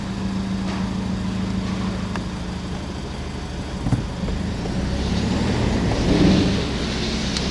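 Mini with an automatic gearbox and a completely flat tyre, driving slowly as a low vehicle rumble with a brief knock near the middle and a swelling of noise toward the end, nearby and without talk.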